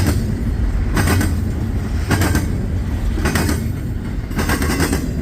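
A freight train led by a single locomotive rolls past close by, a continuous heavy rumble with rhythmic clacking bursts from the wheels about every second, wind noise over it.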